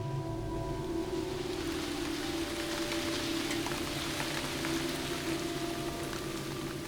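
Heavy tropical wet-season downpour, a dense, continuous hiss of rain falling steadily and loudly throughout with no voices.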